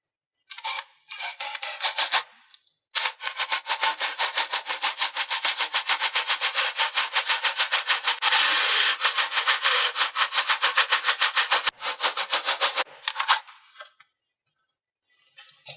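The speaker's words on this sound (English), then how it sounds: "I'm going to try to drill it with a hole saw" A hole saw grinds into a hard plate for a router table in a long, loud, rapid rasping run, briefly pausing and restarting before stopping.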